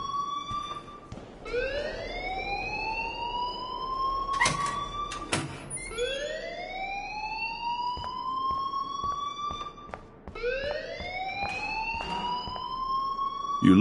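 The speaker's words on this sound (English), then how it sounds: "please turn off that alarm since that's your job." In the video game Life is Strange, a fire alarm wails in repeated rising electronic sweeps, about every four seconds, with faint clicks and knocks between them and no talking.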